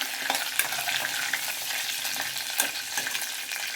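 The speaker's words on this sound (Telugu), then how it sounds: "తర్వాత కరివేపాకు వేయాలి ఇది కూడా బాగా కలపాలి" Curry leaves frying in hot oil for egg kurma, a loud crackling sizzle with quick stirring scrapes and clinks, close and continuous with no speech.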